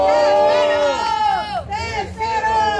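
Loud, noisy crowd at a street rap battle, with shouting and cheering voices over a steady babble of the crowd, plus a prominent voice calling out above it.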